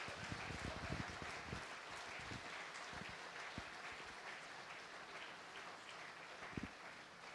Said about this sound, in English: Let's give a big round of applause as the photo is being taken